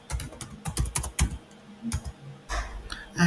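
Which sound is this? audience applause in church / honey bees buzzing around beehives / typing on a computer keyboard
typing on a computer keyboard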